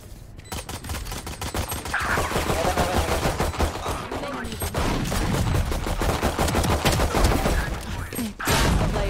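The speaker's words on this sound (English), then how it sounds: "Shotgun, man, the shotgun." Dense shooting in the video game Valorant, with shotgun blasts among continuous loud gunfire and clicks over a busy, cluttered mix, faint talk underneath.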